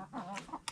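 A chicken at a rural home gives a few quick, faint clucks in under a second, heard alone.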